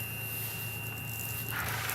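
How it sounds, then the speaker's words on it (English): A steady, high-pitched train cab buzzer tone in Train Simulator 2017 drones over a low engine hum, then cuts off abruptly partway through while the hum continues. "How am I getting the buzzer sound when I'm outside the bloody cab?"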